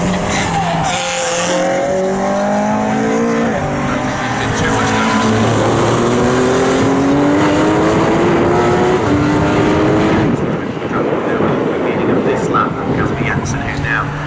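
Race cars at Snetterton roar down the Bentley straight, engines climbing through gears in long rising whines that are loud and close, with a commentator talking over them before the noise fades slightly near the end.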